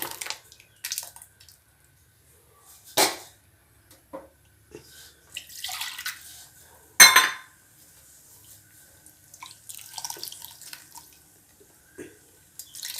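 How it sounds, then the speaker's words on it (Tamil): Cooked dal rinsed with water from a pressure cooker being poured into a pot of mango kuzhambu, heard as a few close splashes and clinks of a metal vessel between quiet pauses, with no talking. "குக்கரில் இருக்க பருப்பை வந்து தண்ணி ஊற்றி அலசி ஊற்றிருக்கேன்"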